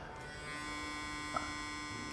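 A new quieter electric toothbrush runs steadily with a thin, even motorised buzz held near the microphone, moderately loud and without talk over it.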